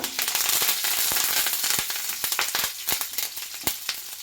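Curry leaves dropped into hot oil with golden-brown fried onions, crackling and spitting in a burst of sharp pops over a loud hiss that thins out into scattered crackles.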